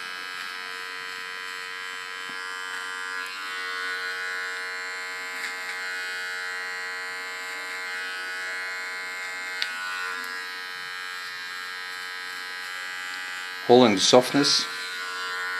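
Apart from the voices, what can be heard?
small hair clipper trimming hair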